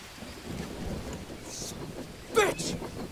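Rain falls and thunder rolls in the survival video game Green Hell: a steady soft patter with a sharp, louder crack of thunder near the end.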